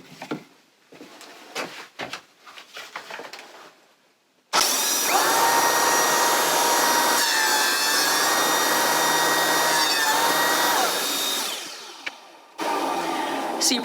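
A wood jointer planing a cupped board, its loud, steady whirring cutting noise running for several seconds after some quieter knocks, easing off near the end before resuming briefly.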